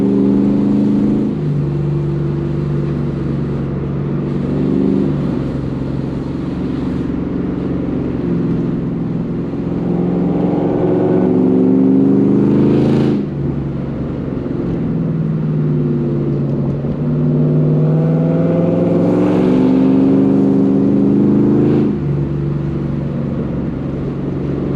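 Ford Mustang with a Coyote V8 engine and FBO upgrades, loud and close on a back road, revving and pulling through repeated rising and falling sweeps with brief shifts between them.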